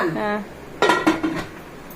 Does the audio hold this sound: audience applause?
no